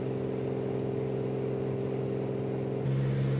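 A high-performance single-engine airplane's piston engine drones steadily in flight, a loud continuous hum with strong low harmonics that shifts slightly in pitch near the end.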